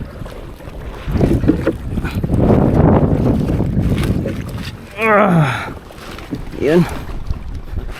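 Strong wind buffets the microphone on a small rowing boat out fishing, a steady roar with gusts, while people talk and call out briefly in between.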